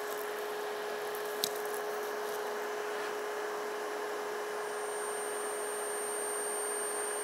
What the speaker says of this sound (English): Speed the motor up, you can see it.